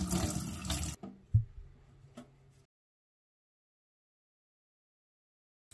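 Water runs from a tap into a container as parts are rinsed for a door-painting job, a brief close splashing burst followed by a few drips and knocks before falling silent.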